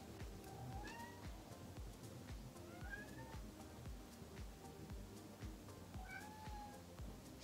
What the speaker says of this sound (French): Mon chat est en train de miauler